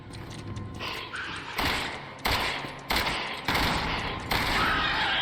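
Rapid shotgun blasts in a video game, five or six loud cracking bursts roughly a second apart over a steady rumbling game soundscape, with no voices.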